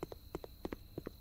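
Horse hooves clip-clop at a walking pace in the Denizen life-simulator game, paired hoof strikes repeating steadily and faintly over a quiet game backdrop, with no speech.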